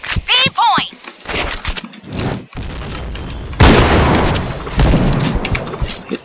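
Kriss submachine gun firing in a video game, several quick bursts and sharp shots mixed with game effects and a loud blast, while voices talk over the action.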